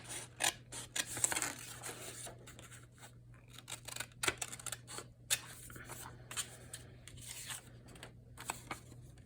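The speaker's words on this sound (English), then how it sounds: "I'm gonna just try doing it with scissors" Paper being cut with scissors while crafting a tag-shaped booklet, heard as a series of close, crisp snips and rustles at an irregular rhythm over a low steady hum, with no talking.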